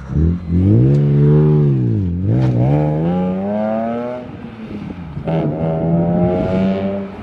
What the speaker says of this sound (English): For a little Megan Racing exhaust, that sounds pretty good